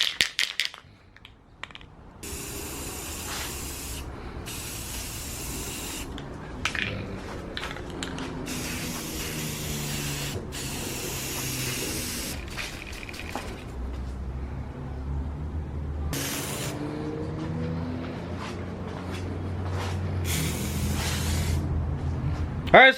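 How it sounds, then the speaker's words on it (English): A spray gun hisses in bursts while painting car parts for an EP3, over a steady compressor-like drone, with clicks and handling noises between passes. "start spraying some more stuff for this EP3."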